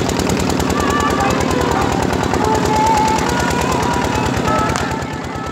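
A long string of local firecrackers bursts in rapid, even crackling pops during a Chhath Puja celebration, loud and close throughout, with no speech.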